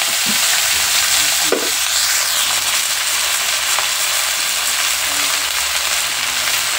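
Potato, banana and pointed gourd cooking for a Bengali chorchori in a pan over a wood fire, a loud, dense, continuous frying hiss with a brief stirring scrape near the start and no voices.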